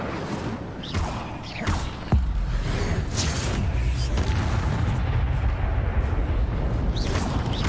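The Incendio fire spell being cast in the video game Hogwarts Legacy, a few loud whooshing bursts early on that give way to a sustained roaring, crackling rumble.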